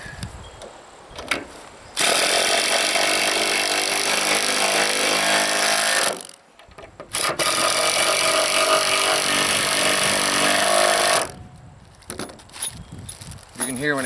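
A battery power tool drives into wood on an off-grid homestead trailer build, with two long, loud, steady whirring runs that labor near the end, separated by brief pauses and quieter handling noises.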